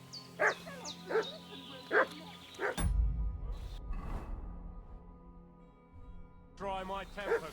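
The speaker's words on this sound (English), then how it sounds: "What's that dog making such a fuss about?" A dog barks in the video game Kingdom Come: Deliverance 2, a few sharp barks heard under a man's speech, followed by a muffled thump and low rumbling scuffle with brief distant yips.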